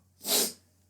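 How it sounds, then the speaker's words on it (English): A single person sneezes once during an indoor podcast recording, a short sharp burst that swells and fades within about half a second against a quiet background. "And I'm going to sneeze."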